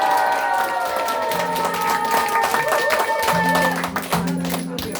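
Audience applause and crowd noise fill the space, with music or tones sounding over it throughout.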